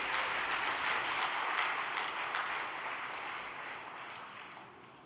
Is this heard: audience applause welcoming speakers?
yes